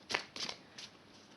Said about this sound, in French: on mélange un petit peu les cartes